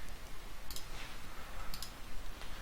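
Computer mouse clicking, two pairs of quick close clicks spaced about a second apart over faint background hiss, with no talking.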